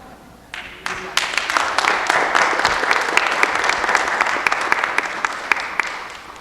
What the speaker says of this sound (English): I think only the adults were clapping.